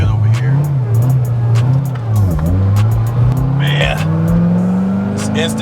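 A 2009 Corvette ZR1 with over 750 wheel horsepower accelerates hard on a street, the loud engine note climbing steadily in pitch after a brief dip, heard from inside with people talking over it.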